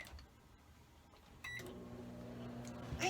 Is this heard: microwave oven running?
yes